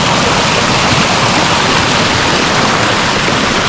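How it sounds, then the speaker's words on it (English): Waterfall on a hike in Gran Canaria, a steady, loud broadband rush of falling water that fills the whole stretch without a break, with no voices over it. "The waterfall up there."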